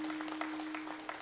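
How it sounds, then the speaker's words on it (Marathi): Faint, limp applause from a kirtan audience, a thin scattering of soft hand claps at low level with a steady tone humming beneath, brief and unenthusiastic. "अशा बुळबुळ टाळ्या वाजू नका"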